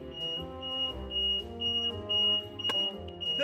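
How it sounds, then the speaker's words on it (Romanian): A car alarm blares in steady electronic tones with a repeating pattern, fairly close and continuous, with no one talking over it. "începe alarma, mă, de la mașină!"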